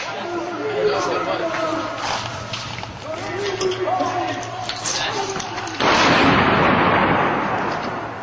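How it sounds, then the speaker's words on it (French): Gunfire in a combat exchange breaks out as a sudden, loud, sustained burst near the end, following several seconds of background voices and chatter. "Attention, je vais tirer."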